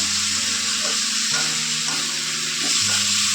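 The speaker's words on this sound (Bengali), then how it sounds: "আর কাঁচা ছোলাগুলো দিয়ে আর চিচিঙ্গা দিয়ে আমি একটু কষিয়ে নেব" Raw chickpeas and snake gourd sizzle steadily in a hot pan with oil, a dense continuous fry broken by a few soft stirring scrapes, close and fairly loud, no voices.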